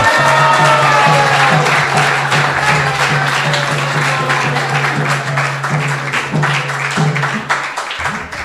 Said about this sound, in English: Please give a applause to Maharaj.